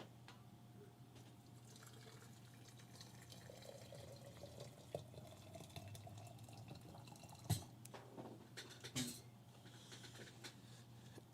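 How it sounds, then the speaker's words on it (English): Hot water pours quietly for a Clever brewer coffee, a faint trickle and filling sound over low background hum, with a couple of sharp clinks toward the end. "got to get our hot water."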